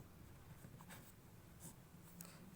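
Soft writing strokes on a board during a maths algebra lesson, a few faint scratches over a low steady room hum, with no voices.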